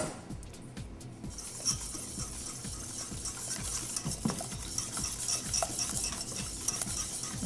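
Whisking in a bowl, rapid rhythmic strokes of a whisk ticking and scraping against the sides, close and steady throughout with a few clinks, no speech.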